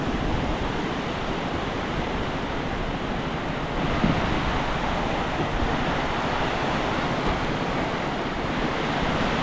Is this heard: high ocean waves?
yes